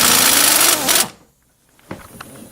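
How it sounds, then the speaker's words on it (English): A loud, fast-rattling impact gun works a shock absorber bolt on a 1999–2007 Chevrolet Silverado for about a second, then cuts off, followed by a quiet pause and a faint clank. "And we get the impact gun. Impact away."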